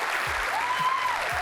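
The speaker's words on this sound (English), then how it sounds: "can we give a huge round of applause to the cast of Carmilla?" An audience at a fan expo panel applauds the cast of Carmilla with a continuous, even roar of clapping. A faint whistle rises and falls through the middle.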